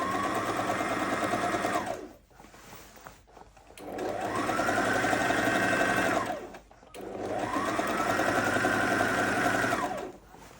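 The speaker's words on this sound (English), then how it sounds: "Let's start sewing now." A sewing machine runs three long stitching passes on a sleeveless pleated short gown, a loud, close motor whir with brief pauses between runs.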